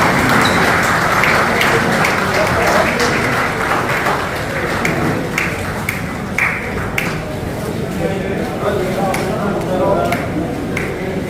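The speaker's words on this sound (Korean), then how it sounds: "항상 박수 드리시기 바랍니다." An audience at a horse-racing trainers' association retirement ceremony claps continuously and fairly loudly, with scattered sharper claps and a voice speaking over the applause.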